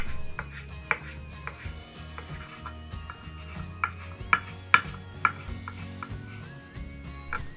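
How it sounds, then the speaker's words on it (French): A knife chopping food into small cubes on a cutting board, a steady run of close, crisp taps that grow sharper and louder toward the middle, with faint scraping between strokes. "on va les détailler en mini-cubes"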